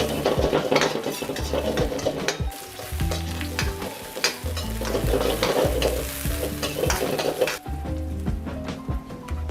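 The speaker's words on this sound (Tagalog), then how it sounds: "Magpainit lang ng pan at igisa na natin ang garlic at onion." Garlic and onion sautéing in a hot pan, a steady close sizzle with frequent scraping and clinking of a spatula against the pan, no talking.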